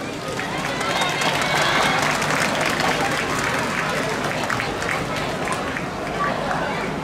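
An audience at the 2019 Urawa Yosakoi dance festival fills the air with dense, continuous applause and cheering, steady and loud throughout, with crowd voices mixed in.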